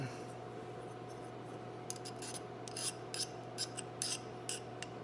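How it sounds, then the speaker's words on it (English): A file rasping a burr off the inside edge of a gun lock plate during lock installation, a series of short, close scraping strokes in quiet room tone. "make sure we take a little bit of that burr off"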